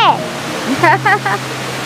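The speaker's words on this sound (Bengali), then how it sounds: "দেখতে পাচ্ছেন পেছনে ঝর্ণা, এখান থেকে জল ছিটকে আমাদের গায়ে আসছে" Chhenge Falls waterfall near Kolakham, its water splashing down in a steady broadband rush, with voice-like tonal sounds rising over it partway through.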